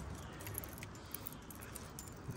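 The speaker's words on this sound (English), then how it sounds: "Got them old school keys, man." A bunch of old-school keys jangles faintly, with scattered light metallic clinks over a quiet background hiss.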